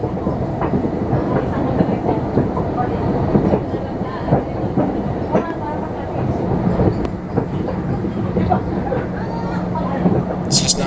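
Long Island Rail Road train riding on the main line near Mineola, a loud continuous rumble from inside the car with rattling, jostling clatter and rhythmic clicks over the rails.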